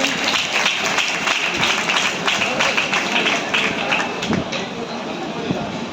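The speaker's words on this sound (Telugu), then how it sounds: "అందరూ కూడా క్లాప్స్ పడండి" A church congregation claps together in sustained applause, a dense steady patter of many hands filling the room with no pauses across the whole stretch.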